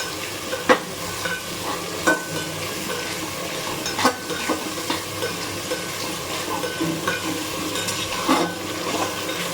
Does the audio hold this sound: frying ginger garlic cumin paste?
yes